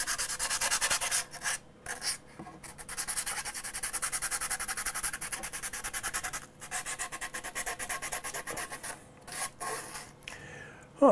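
Wet sandpaper rubbing over a 3D-printed part in steady back-and-forth strokes, a close, rhythmic scraping with brief pauses between bursts and no talking.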